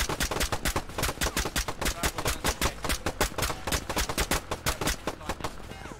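Gunfire in the military shooter game Operation: Harsh Doorstop, a long, loud run of rapid, evenly spaced automatic shots, near and sustained throughout.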